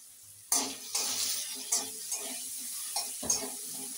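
Kohlrabi frying in a pan is stirred in several sharp scraping bursts over a soft background sizzle, with roughly six distinct spatula strokes spaced about half a second apart and no talking.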